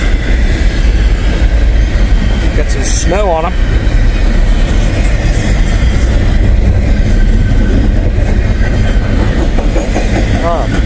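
A big freight train of containers, some carrying snow, rumbles past up close in a steady, continuous roar with clattering wheels, while someone talks over it and a brief horn-like tone rises partway through.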